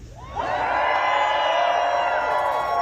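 A large protest crowd of veterans on the National Mall in Washington, D.C. swells into loud, sustained cheering and whooping, rising sharply after a brief quieter start and holding at full volume.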